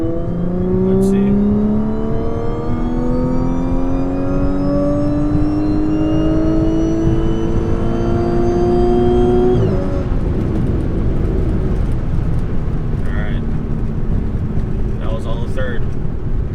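Audi B8.5 S4 pulling hard in third gear, its engine note climbing steadily for about ten seconds before the throttle lifts, loud and close from inside the cabin; a driver talks briefly afterward over the road noise.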